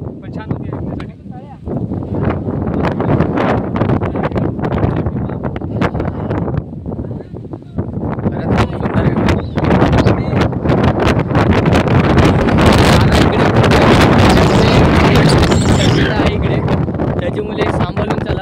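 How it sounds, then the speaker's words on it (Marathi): Strong wind roars and buffets the microphone at Tandulwadi fort on a trek. The gusts are loud and continuous and grow stronger in the second half, with voices heard faintly underneath. "हे बघ खूपच वारा आहे"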